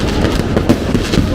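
New Year's Eve fireworks bursting in a busy celebration, a dense, continuous crackle of overlapping pops near and far with a few sharper bangs, while voices cheer and talk over it.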